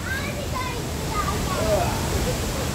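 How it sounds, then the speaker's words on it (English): Waterfall at Dyserth, a broad steady rush of falling water heard up close, with faint voices and birdsong drifting over it. "there's a little brook there, which is where the smaller waterfall is"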